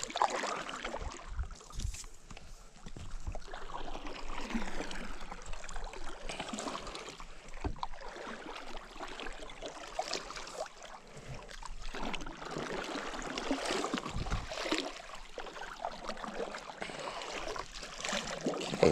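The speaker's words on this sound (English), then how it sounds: "So just paddle a little bit and we'll do a full sweet stroke." A paddle pulls through the water beside an iRocker All Around 11 stand-up paddleboard, making a series of close, rhythmic splashing and gurgling strokes.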